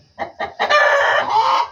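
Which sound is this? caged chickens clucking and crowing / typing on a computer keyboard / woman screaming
caged chickens clucking and crowing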